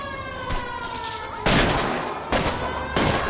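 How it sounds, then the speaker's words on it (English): Bursts of mob gunfire in L.A. Noire crack out during a car chase, three loud clusters of shots over a steady engine drone with a siren-like tone, no voices. "Oh, mob shooting."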